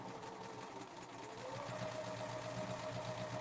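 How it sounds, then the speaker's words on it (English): A sewing machine stitching quilt block fabric with a scant seam, a steady close mechanical whir and rapid needle chatter running continuously and slightly speeding up. "I'm just sewing all the way down."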